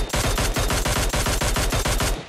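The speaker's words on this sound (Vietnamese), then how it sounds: "bên kia có tiếng súng kìa" An automatic weapon fires in the PUBG Mobile video game. Loud, close rapid shots hammer out in one sustained burst of about a dozen rounds in an even rhythm, then the sound cuts off.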